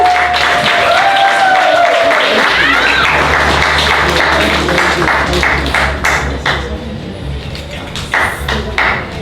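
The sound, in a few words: applause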